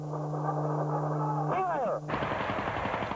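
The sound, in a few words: tank firing a round at a target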